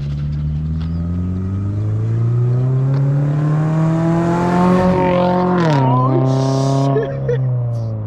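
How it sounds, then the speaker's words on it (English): A 2022 Toyota GR86 fitted with a Subaru BRZ exhaust revs nearby, its loud engine note climbing, holding and then dropping away over several seconds. "The car sounds amazing with the BRZ exhaust."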